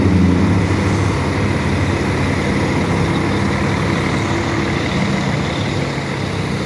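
A São Cristóvão coach passes through a bus station at Graal Bela Vista in Minas Gerais, its loud, steady diesel rumble filling the whole stretch up close, with no voices.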